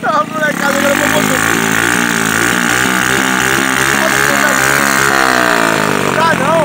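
A small engine on a motorized BMX bicycle built from scrap runs loud and close, with a steady buzzing drone and a slight rhythmic throb that holds throughout.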